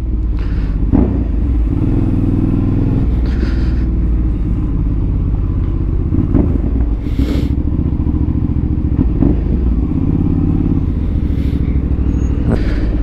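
A heavy, bulky motorcycle rumbles close up while being ridden, its engine note steady with occasional rises and dips in revs and brief clattering bursts, with no talking.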